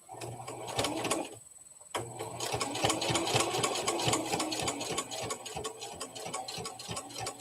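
A sewing machine stitches slowly around the tight curve of a teddy bear's foot, its rapid even needle clatter running steadily with one brief pause partway through.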